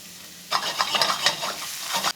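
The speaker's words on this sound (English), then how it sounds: "A little olive oil in the pan, get the garlic going." Sliced garlic hits olive oil in a pan and bursts into a bright, crackling sizzle that swells and flutters for well over a second, close and fairly loud, with no voices.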